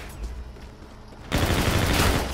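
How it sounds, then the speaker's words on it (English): A high-recoil gun in a video game opens up after a quiet moment, a loud, dense burst of close gunfire that continues to the end. "this gun do have a lot of recoil. It's not really a long distance gun right there, as you just seen right there when I tried to shoot them from that far away"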